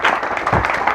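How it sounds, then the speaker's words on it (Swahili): Brief burst of audience applause at a church gathering honouring retiring elders, a dense patter of clapping hands that fills the moment evenly and close by. "Naomba tuwapongeze kwa makofi tu jamani"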